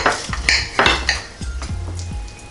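A knife cuts through an air-fried pork chop on a plate, making a few close clinks and scrapes against the plate in short separate strokes.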